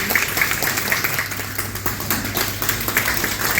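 Applause from a gathered audience at a farewell ceremony for the Bilaspur district collector, a steady dense patter of clapping that carries on without a break and with no clear speech over it.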